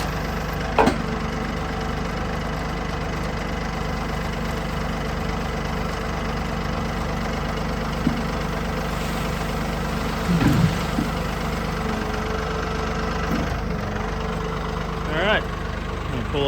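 Massey Ferguson 1840 tractor idles steadily with a low, continuous engine rumble while a dump trailer unloads a full load of wood chips, with a few faint clunks and knocks from the trailer breaking through.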